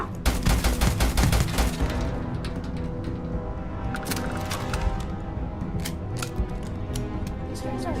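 Gunfire in the video game Starfield crackles in dense rapid bursts at first, then thins into scattered sharp shots with a steady hum underneath.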